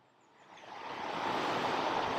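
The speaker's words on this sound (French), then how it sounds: "on entend le vent" Wind rushes over an open-air harvest mass in Illois in August, swelling from quiet to a steady, full broadband roar that holds for about two seconds, with no voices heard.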